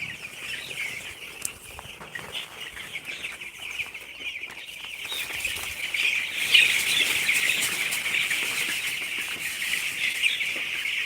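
Eleven-day-old broiler chicks crowded together in a shed, keeping up a dense, continuous high chirping and peeping that swells louder in the second half, with no talk.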